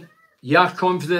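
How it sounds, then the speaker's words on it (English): A house cat meows in a short, clear, voiced call heard close to the microphone, following a faint quieter sound, alongside a man's nearby speech. "That's my cat."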